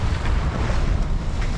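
A sailboat on an ocean crossing toward Cape Verde under autopilot with the engine off, heard as a continuous loud roar of wind and rushing water from start to finish.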